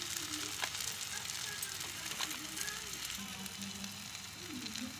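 Biryani masala and whole spices such as bay leaf, cloves and cardamom sizzling in hot oil with tomato in a home kitchen pan, a steady close frying hiss running throughout.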